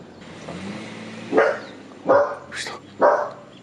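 A dog barks in a town on Okinoerabu Island in Kagoshima: three distinct, fairly close barks at an even pace, with a faint whimpering yip between them over a low street background.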